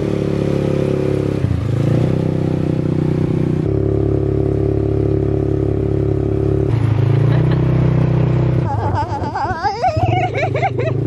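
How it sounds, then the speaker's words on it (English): A loud engine drones steadily and revs throughout, with rattling and clatter, and excited voices shouting and laughing near the end. "so we're gonna naik ATV now"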